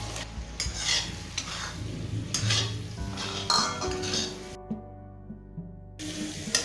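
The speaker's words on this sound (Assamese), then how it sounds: "এতিয়া মই ভালকৈ লৰাই থাকিম।" A spoon scrapes and stirs fried potato and paneer in a sizzling pan, with clinks of metal on metal, then a brief silence before stirring resumes.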